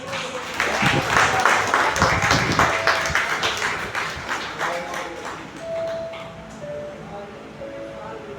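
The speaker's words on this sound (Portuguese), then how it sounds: "As palmas para o Senhor Jesus." Congregation clapping during a Baptist church family service, a dense patter of hands for about five seconds that thins out as sustained keyboard tones take over.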